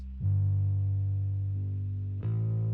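A Native Instruments Rickenbacker bass plays a sustained, effects-laden low note with distortion and chorus, held steady for about two seconds before a fresh attack, loud and alone without any talking.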